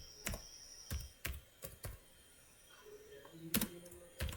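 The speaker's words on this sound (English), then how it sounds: "First, type hashtag" Computer keyboard typing C++ code, heard as a handful of distinct, close keystroke clicks spaced irregularly with a brief pause midway, and no talking.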